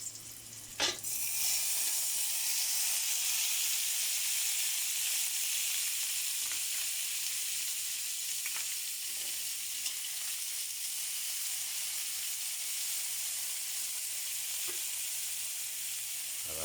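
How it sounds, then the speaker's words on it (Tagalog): Garlic and onion sauté in a hot pan with a continuous soft hiss and sizzle, a sharp clatter near the start and faint stirring scrapes, no talk. "Igisa na po natin yung ating bawang,"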